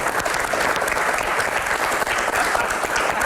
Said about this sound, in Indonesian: Kasih tepuk tangan dulu buat Mas.